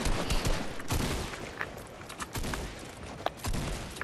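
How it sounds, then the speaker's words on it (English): Dense bursts of rapid gunfire in the video game Fortnite, sustained fusillade with sharp individual shots punctuating a loud, continuous barrage. "you guys are firing your guns around me"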